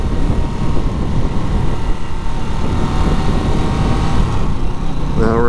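A 2024 Harley-Davidson Nightster is ridden in third gear, its steady, close engine rumble mixed with a constant rush of wind noise.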